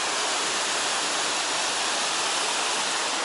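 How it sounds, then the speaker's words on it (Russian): Water pours steadily over a small spillway beside an old footbridge in the Kaliningrad zoo, a constant broadband rushing roar heard close up with no voices. "И вот такой водосброс."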